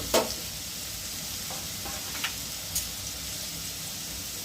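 Sliced ridge gourd dropped into potatoes frying in oil for a Bengali jhinge aloo posto, opening with a sharp clatter into the pan, then a steady hiss of sizzling oil with a couple of light stirring taps.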